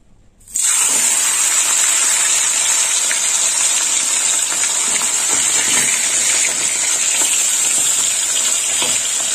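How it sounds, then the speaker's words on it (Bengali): Tilapia pieces, three whole and one cut in two, drop into hot oil and set off a loud, continuous sizzle that starts abruptly and holds steady with no talking. "এবার তেলের মধ্যে মাছটা দিয়ে দেবো"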